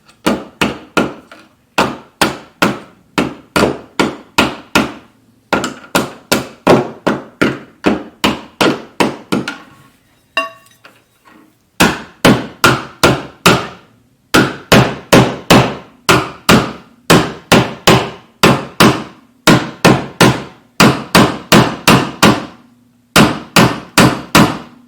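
Hammer tapping a GFCI outlet into place in a wall box, sharp rapid taps in quick bursts of several strikes each, repeated with short gaps, loud and close with no talking.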